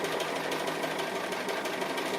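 A sewing machine quilting and stitching appliqué on fabric hums in one continuous, even run with a fast rhythmic knock, close and steady without any voice.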